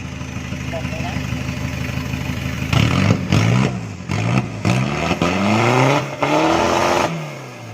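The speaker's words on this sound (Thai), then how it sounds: "เดี๋ยวเรามาฟังเสียงรถพี่เขากันนะ เดี๋ยวเบิ้ลเบิ้ลให้หน่อยครับพี่" A rare Chevrolet pickup engine idles, then is blipped in several sharp revving bursts that rise and fall, loud and close, with a voice briefly under the engine.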